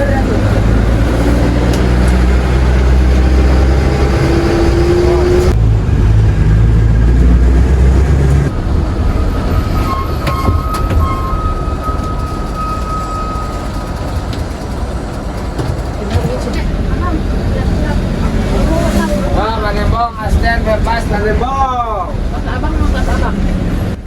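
A public bus on the Jakarta–Cianjur route drives past the Cipanas presidential palace. Loud, continuous engine and road rumble fill the whole stretch, with voices heard over it.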